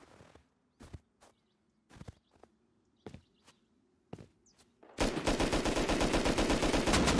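Gunfire in the video game Rust: a handful of sharp, separate shots crack out over a quiet background, then a loud, sustained burst of rapid automatic fire takes over and continues to the end.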